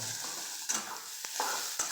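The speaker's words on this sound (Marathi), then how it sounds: "कांदा भाजून घ्यायचा आणि डाळ टाकायची" Onion frying in a pan for a fish fry, a soft steady sizzle with a few scraping stirs and clinks, close up and fairly quiet with no talk.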